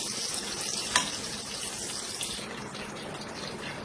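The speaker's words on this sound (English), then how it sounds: "Okay, the onions are slightly brown." Onions frying and lightly browning in a pan, a dense, steady hiss of sizzling that carries on without a break, with a single soft knock early on and no voices.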